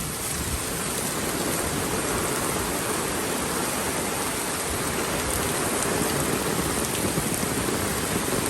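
Steady, dense rain pouring down without a break during a typhoon in Hinaguan, a constant hiss of drops striking surfaces close by.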